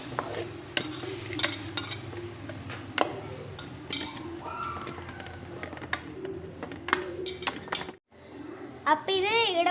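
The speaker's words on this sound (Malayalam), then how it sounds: "ഇനി നമുക്ക് ഇതിലേക്ക് പച്ചമുളക്, ഇഞ്ചി, വെളുത്തുള്ളിയൊക്കെ ഇട്ട് കൊടുക്കാം. നന്നായി മിക്സ് ചെയ്യാം." Green chili, ginger and garlic are stirred into biryani masala in a pan, giving scattered clinks and scrapes close by, with bird calls in the background and some soft vocal sounds.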